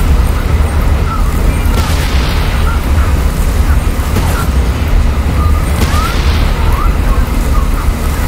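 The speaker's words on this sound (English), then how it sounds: "Those mortars were very helpful." Mortar blasts in the World War I game Warfare 1917, heavy booms with rumbling low end inside constant loud battlefield noise, two stronger bursts standing out a few seconds apart.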